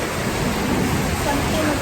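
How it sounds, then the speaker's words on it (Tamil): Steady rain falls heavily and evenly near Trombol Beach, a continuous loud hiss with no breaks across the short stretch. "மழை பெய்யுது."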